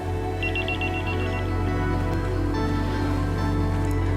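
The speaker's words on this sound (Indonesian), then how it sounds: "Kayaknya Mas Yoga selama aku hindar nggak akan berhenti deh telepon aku" A telephone rings in a short burst of repeated chirping tones early on, then stops, over a steady background of music or ambience with no talking.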